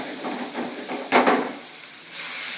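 Water hitting a hot pan of peas, carrots and beans for morning kichadi, giving a steady broadband hiss and sizzle that flares briefly into a louder steamy burst partway through, with no talking.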